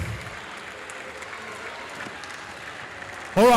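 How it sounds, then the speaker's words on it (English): Applause from the audience at a strongman competition, a steady moderate patter of clapping that runs until a sudden loud burst of voice cuts in at the very end. "Round of applause for Reese"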